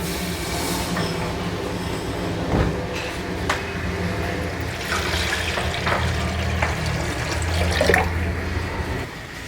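Pot of water heats toward a boil on a stove for macaroni, a steady rumbling, bubbling wash of sound with occasional sharper clinks and hisses, moderately loud and close, with no one speaking.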